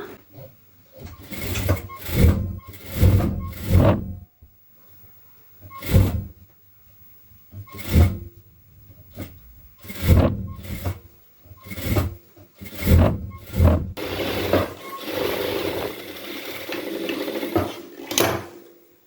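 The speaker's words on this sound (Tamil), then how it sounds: "ஸோ இப்போ வந்து இதை நம்ம டபுள் ஸ்டிச் போட்டுக்கலாம்." A sewing machine double-stitches the sleeve seam of a blouse, running in repeated short, loud bursts of rapid stitching with brief pauses between them and a longer continuous run near the end.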